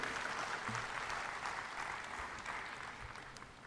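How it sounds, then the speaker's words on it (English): An audience at a retreat's sixth anniversary celebration applauds steadily, a soft, distant wash of clapping that holds for a few seconds and slowly tapers off. "Another round of applause, please."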